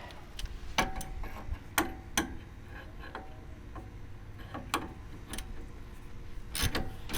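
A ratchet with a standard socket, no breaker bar, loosening a bolt on a lifted car, giving scattered sharp clicks and ticks at uneven intervals against faint background noise.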